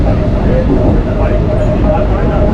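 A packed local passenger train runs on the Sealdah to Ranaghat line. A loud, constant rumble of the moving carriage blends with the dense murmur of many passengers, and people talk close by.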